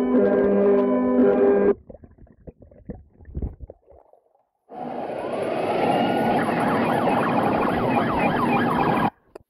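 A loud electronic NYPD police siren wails and yelps continuously after a short burst of tone and some clatter, sounding close by.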